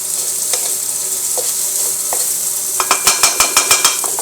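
Chow mein noodles frying in a pan, a steady close sizzle that turns to a quick run of rhythmic tossing scrapes and clatters near the end.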